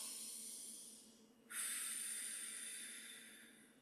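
A person breathes deeply, with a soft drawn-out airy inhale followed by a stronger, breathier exhale that begins abruptly and slowly fades, close and quiet with no talking.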